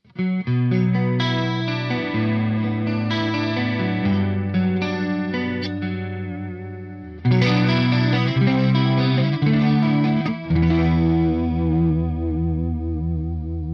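Tokai custom shop Strat through a loud but clean Marshall ST20 amp with chorus added, shimmering chords and melodic lines played close and alone, with a brief pause midway before a brighter second phrase.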